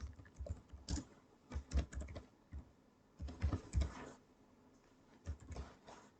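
Fingers typing on a computer keyboard at a desk while entering web page text, bursts of quick close clicks separated by short pauses, no one speaking.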